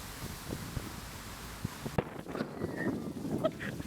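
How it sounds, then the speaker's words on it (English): Wind gusting outdoors around an open-fire cooking spot, a steady rushing buffet against the microphone that breaks into rougher, uneven gusts partway through. "It's very windy here."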